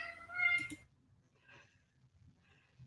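A cat gives one short, clear meow close by at the start, then a faint murmur of room sound follows.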